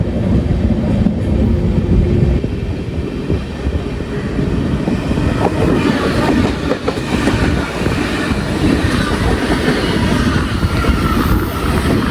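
The KSR Bengaluru–Ernakulam Intercity pulls away from Bengaluru Cantonment station with a loud, continuous rumble and steady rhythmic clatter of wheels over the rails, heard from aboard the moving train.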